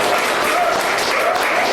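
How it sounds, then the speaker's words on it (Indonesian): Brief burst of steady clapping from a classroom or lecture group applauding a student team, dense and even throughout without speech. "Tepuk tangan ya untuk kelompok"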